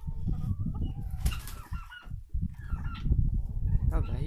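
Cochin chickens clucking close by in a backyard flock, steady low murmuring clucks with a few sharper calls and brief wing flaps throughout, no talking.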